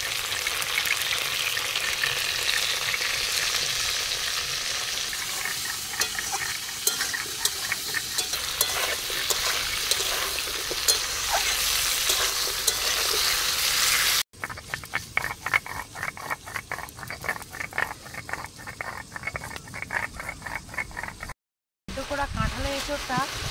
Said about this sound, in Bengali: লবণ হলুদ দিয়ে ভালো করে ভেজে নেব।